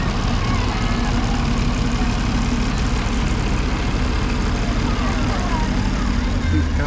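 A 1947 Oliver 99 vintage tractor engine running at an outdoor Labor Day show, a steady, heavy low rumble that stays close and constant throughout with no other sounds standing out.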